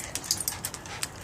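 A dog's quick, quiet panting with small whimpers, short breathy bursts repeating close by, no talk over it.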